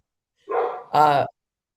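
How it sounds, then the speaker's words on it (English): A dog gives two short barks close by, the second sharper and louder, with silence around them. "I can hear a dog. Is that your dog?"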